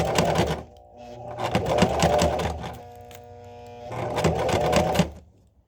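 A sewing machine stitches fabric for a face mask in two loud, steady runs of rapid mechanical whirring, separated by a quieter pause with only faint motor hum, then stopping abruptly.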